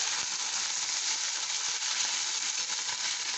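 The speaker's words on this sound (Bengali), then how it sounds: "এটা একটু ভালো করেই ভেজে নিতে হবে।" Small kakchi fish fry in a pan, giving a steady, close, even sizzle that hisses continuously without pause or talking.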